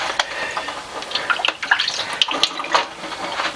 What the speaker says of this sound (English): I'll put them on here and strain them